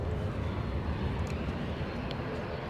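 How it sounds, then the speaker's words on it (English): A British Airways airliner on final approach, heard as a steady, broad engine roar that holds at an even level throughout, fairly loud and continuous, with no talk over it. "somebody's on finals. I think it's a British Airways from somewhere."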